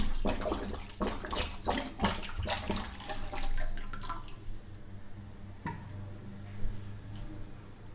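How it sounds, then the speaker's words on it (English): Water poured from a vessel into a deep frying pan, a liter splashing and gurgling steadily for about four seconds before trailing off into quiet drips and faint room noise. "To this I am adding 1 liter of water."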